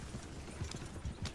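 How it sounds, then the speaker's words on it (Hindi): Hooves of a horse pulling a carriage clip-clop in a quick, steady rhythm, several muffled thuds close by with a faint rumble beneath, and no voices over them. "गाड़ी वाले ने चाबुक चलाई और घोड़ा गाड़ी दौड़ गई"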